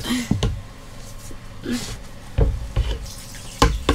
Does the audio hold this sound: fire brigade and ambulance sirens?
no